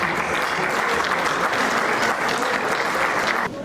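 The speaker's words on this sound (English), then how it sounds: "Let's give him a big hand of applause." Dense, loud applause rises from a crowd at an Igbo women's community event in Australia as a guest is called up, continuing steadily before cutting off abruptly near the end.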